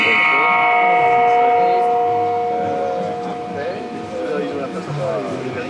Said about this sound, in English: It's a metal gong that's mounted in a cabinet and driven by a resonator